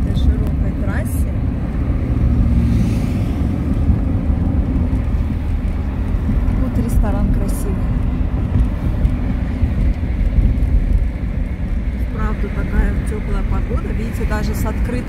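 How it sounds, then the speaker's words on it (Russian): Car driving with the window open along a wide road in Tashkent, a steady loud engine and road rumble with wind, while people talk inside. "Так, мы вот так вот прямо сейчас едем."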